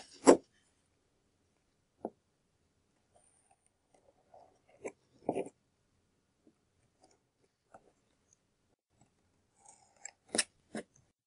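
Scissors snipping through paper to cut long thin strips for rolled paper beads, close and crisp, with several separate cuts spaced irregularly amid near silence.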